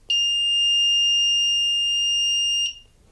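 A piezo buzzer on an HC-SR501 PIR motion sensor module sounds one steady, loud, high-pitched electronic tone, close by, lasting about two and a half seconds before cutting off into quiet room noise.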